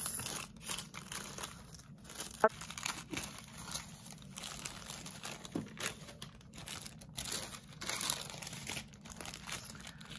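Wrapping paper is peeled gently off planners being unboxed, giving soft intermittent crinkles and light tearing rustles, close and quiet, with a sharper rip near the start and handling noise throughout.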